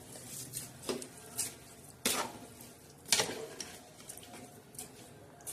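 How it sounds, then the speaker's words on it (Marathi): Chicken pulao stirred in a pot: irregular scraping strokes and soft metallic clinks of a utensil against the pot, with faint sizzling underneath, moderately quiet and close. "आता असं मस्त हलवून घ्यायचं हे सगळं."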